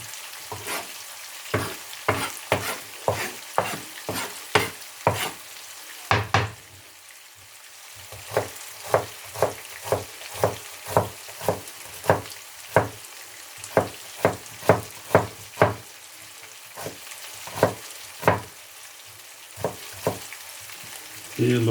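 Onions frying in a pan for an Indian-Pakistani style chicken and vegetable curry, with a spoon stirring in steady, repeated scraping strokes over a soft sizzle, close and moderately loud, with a brief pause partway through.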